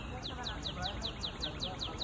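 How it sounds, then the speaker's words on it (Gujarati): A bird chirps in a quick, steady series of short high tweets over a constant low background rumble. "સાંભળી શકો છો બર્ડનું ચર્પિંગ."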